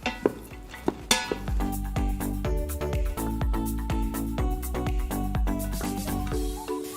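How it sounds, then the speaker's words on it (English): Sliced onion and vegetables are stirred in a pan while sautéing, with repeated scraping and clinking of a utensil against the pan over a soft steady sizzle, close and fairly loud. "we're just gonna mix this around a bit, saute until the vegetables are a little bit soft."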